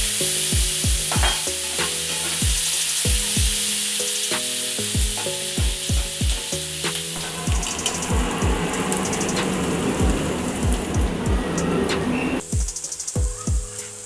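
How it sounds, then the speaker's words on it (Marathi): Onions sautéing in a pan for veg pulao, a steady loud sizzle with a spoon scraping and stirring in repeated rhythmic strokes, close up and alone. "कांदा आपला लालसर भाजून झाला आहे।"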